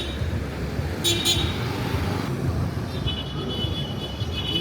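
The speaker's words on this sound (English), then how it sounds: "This is another electric bus." Electric bus on a street in Jinja, Uganda, rumbling steadily amid constant roadway traffic noise, with a brief high horn-like toot near the middle and a faint whine later; a voice talks over it.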